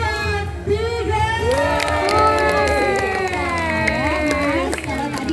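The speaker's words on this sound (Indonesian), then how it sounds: "Kalau dia berhasil menangkap buah ini, nanti kita boleh kasih tepuk tangan untuk Delia." Crowd at a bird show cheering and shouting with some clapping, a dense, loud mix of voices running steadily through the whole stretch, with excited children's cries rising above it.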